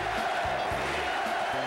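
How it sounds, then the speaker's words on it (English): Arena crowd in Boston Garden chanting "Beat LA" at a basketball conference finals, a massed rhythmic roar of many voices repeating the chant, loud and steady throughout. "You hear the crowd chanting to the Sixers? Beat LA. Beat LA"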